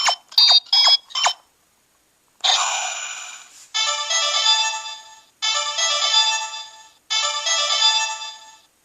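An electronic ringtone melody plays, followed by a short burst and then the same tone repeating three times in even, clear loops.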